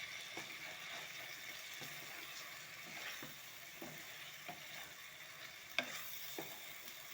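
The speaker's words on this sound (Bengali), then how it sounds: "ডুমুরটা দেওয়ার পর সুন্দর করে কষিয়ে নিতে হবে" Shrimp, potatoes and figs sizzle steadily in a pan while a utensil stirs and scrapes at a regular pace, with one sharper knock near the end.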